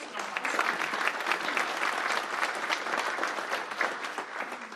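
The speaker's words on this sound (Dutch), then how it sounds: "Wilt u even applaus voor dokter Verhorst?" Steady applause from an audience at a public medical lecture, loud and sustained throughout, with many hands clapping at once and no voices over it.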